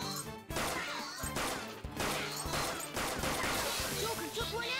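Battle gunfire in Persona 5 Royal, with rapid bursts of shots and crashing impacts layered over loud game music, dense and continuous.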